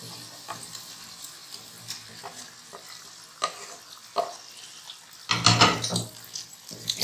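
Tikka boti pieces fry in masala, softly sizzling with a few scrapes of stirring, then a louder burst of crackling and spatter near the end, close and without talk.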